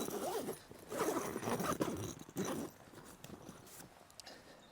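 Zipper on the outer canvas of a Wingman Goose motorcycle tent drawn closed in a few quick rasping pulls, close by, then quieter fabric rustling.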